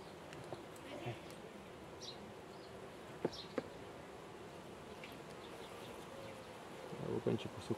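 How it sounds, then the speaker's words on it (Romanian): Carpathian honey bees buzz at an open hive in a continuous, fairly quiet drone. Individual bees fly close past now and then, and there are a few soft clicks from handling near the end. "Și aici albinuță mai puținică."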